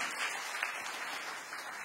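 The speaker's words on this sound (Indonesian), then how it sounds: "Berikan tepuk tangan bagi Tuhan." A church congregation gives a round of applause, a soft, even wash of many hands clapping heard faintly from a distance, steady for a couple of seconds.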